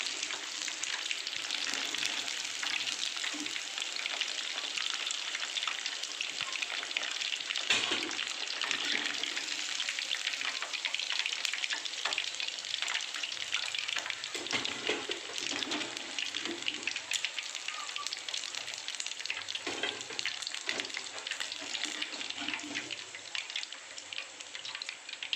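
Chicken pakoda fries in hot oil, giving a steady close crackling sizzle with scattered pops throughout and no voices.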